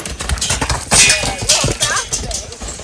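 Hooves of a fearful three-year-old mustang clip-clop in a quick, uneven rhythm close by, with a person talking over the footfalls.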